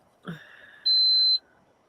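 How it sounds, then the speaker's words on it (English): A single short, high-pitched electronic beep sounds clearly after a brief soft thump, in an otherwise quiet room. "we can finally narrow down that beeping sound"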